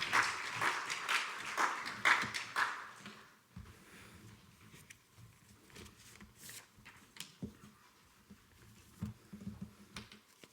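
Church congregation clapping to welcome a speaker: a burst of applause for about three seconds that quickly fades into quiet room noise with scattered faint knocks.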